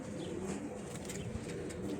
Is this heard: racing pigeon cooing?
yes